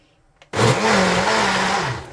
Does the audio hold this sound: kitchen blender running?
yes